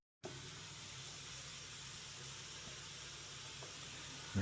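Lamb sizzles in olive oil in a pan, a steady, faint, even hiss continuing without break throughout.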